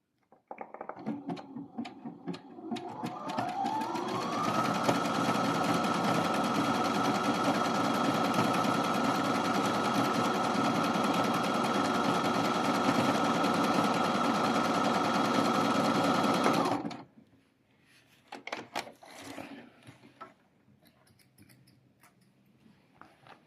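A domestic sewing machine runs a decorative embroidery-style stitch, its motor whirring and needle chattering in a loud, steady drone for about twelve seconds before it stops abruptly, leaving faint handling clicks.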